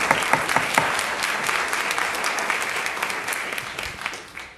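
An audience at a city board meeting applauds steadily, a dense patter of many hands clapping that gradually thins and fades toward the end.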